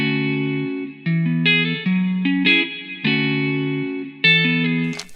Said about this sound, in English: when I turn the effects back on, the sound completely transforms into like so much better sounding guitar